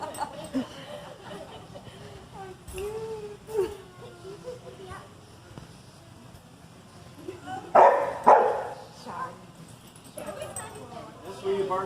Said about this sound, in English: That's where you bark back, Charlie